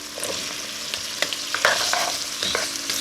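Base ingredients for Tuscan bean soup sizzle and crackle in a hot pan, with scattered pops and scraping stirs over a steady frying hiss.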